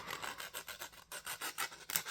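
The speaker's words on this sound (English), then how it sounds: "So if we're doing a really coarse grit on a coarse edge, it's just gonna work away these edges really quick." Coarse-grit sanding stick scraping back and forth over rough edges, a steady series of about ten rhythmic raspy strokes, close and fairly quiet, with no voices.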